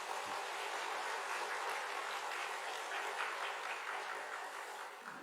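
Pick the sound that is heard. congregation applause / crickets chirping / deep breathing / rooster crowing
congregation applause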